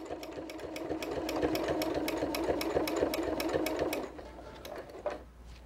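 Quilting machine stitching through fabric with long stitch length, a steady rapid mechanical needle rhythm running close and loud for about four seconds before slowing to a few final thumps.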